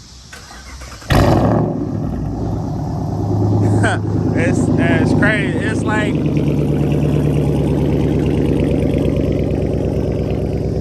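Catless Chrysler 300 Hemi V8 starts with a sudden loud burst and settles into a deep, steady rumbling idle that fills the rest of the clip, while someone talks over it throughout.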